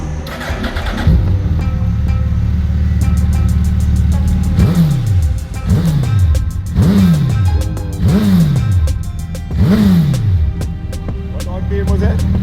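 A Suzuki Hayabusa motorcycle on its old exhaust pipes idles loud and close, then gives five sharp revs in a steady rhythm, each one rising and dropping back quickly.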